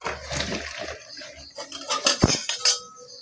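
Cooking pot of chalta (elephant apple) pickle taken off the stove in a home kitchen, with clattering metal, scraping and clinking of pot and utensils in short close bursts.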